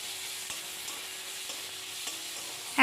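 Onion, ginger and garlic frying in a pan, with a steady low sizzle and a few soft stirring scrapes, quiet and close, then a brief louder knock at the end; no talking.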